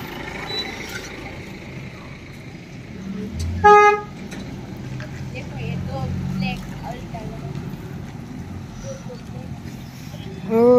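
A village load vehicle pulls up on a rural road, giving one short, loud horn toot amid engine rumble and background voices, with another brief honk at the end.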